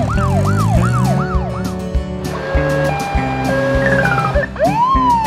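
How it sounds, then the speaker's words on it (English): A Chinese police car siren blares up close in fast, regular swoops, then shifts to a two-tone alternating pattern and ends on a rising wail, all over a low engine rumble with no talking. "China. Police car."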